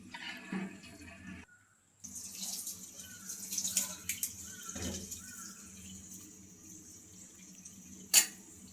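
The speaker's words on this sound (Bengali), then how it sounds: "পরিমাণ মতন পানি দিয়ে দেবেন।" Water is poured into a cooking pan of seasoned beef tripe for a curry, a quiet splashing and trickling sound with a short gap and a sharp knock near the end.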